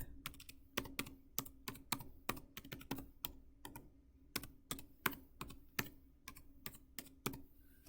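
A website address is typed on a computer keyboard: quiet, uneven clicking keystrokes in quick bursts, close by, with no talking.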